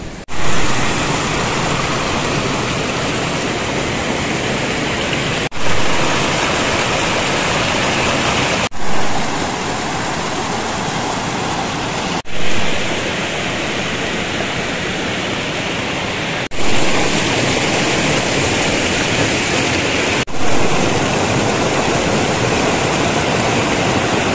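A river rushes over rocks on a trek around Mount Rinjani, a loud, dense, unbroken roar of water up close with small periodic swells in level and no voices.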